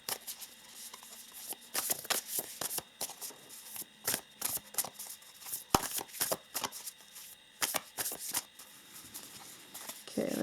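Self-care oracle cards are shuffled by hand, giving repeated close riffling and slapping bursts in an uneven rhythm across the whole stretch, with soft papery rustle between them.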